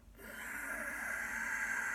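A single long, hissing Ujjayi yoga breath drawn slowly through a constricted throat with the mouth shut, steady and close, with a soft oceanic rasp.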